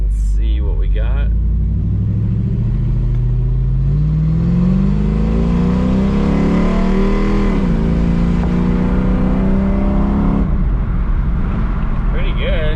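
A Dodge Magnum V8 with a bored-out throttle body accelerates from inside the car. The engine note rises steadily as it revs up, eases briefly, then climbs again before cutting off. The rumble is loud and close.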